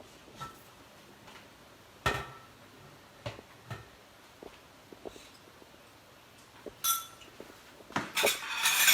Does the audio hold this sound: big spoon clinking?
yes